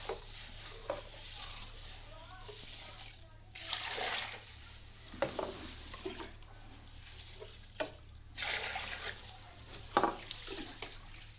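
Fish pieces are rinsed and swished around in water by hand, with bursts of splashing and sloshing that come and go over about eleven seconds, fairly quiet and without talking.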